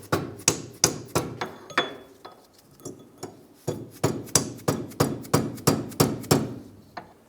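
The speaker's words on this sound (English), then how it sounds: "we're going to use a soft mallet on the inside where we can to try and drive that axle forward" A soft mallet pounds an axle through the rear wheel hub of a 2003-2011 Honda Element, a steady run of loud, close, ringing blows at about two per second with a short pause partway.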